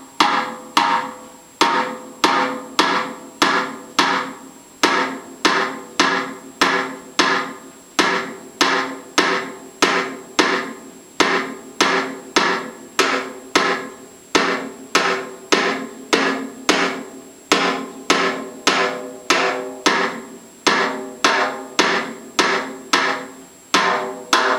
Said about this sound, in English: your snare drum is going to be playing a rhythm that's actually very similar to a clave